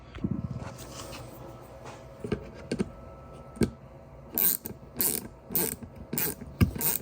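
Small self-tapping screws are driven through the backside of a two-stroke enduro dirt bike's plastic fan shroud, heard as close, uneven bursts of ratcheting, clicking and grinding with short pauses between turns.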